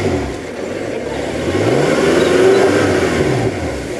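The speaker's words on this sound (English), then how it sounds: "Give us a blip on the throttle." A BMW M6 engine blips up in revs, rising then dropping, with a second shorter rev near the end, loud and close.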